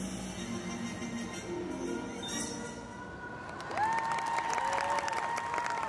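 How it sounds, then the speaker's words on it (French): A crowd at a Tokyo Game Show 2023 cosplay stage show claps and cheers, a broad, moderately distant wash of applause that is soon joined by sustained tonal music or voices. "On les applaudit bien fort"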